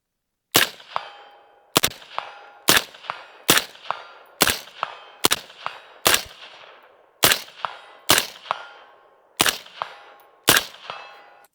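Eleven evenly spaced rifle shots fired with a Digi-Trigger at an outdoor range, each sharp crack followed by a ringing metallic ping from a steel target 100 yards downrange, with no talking.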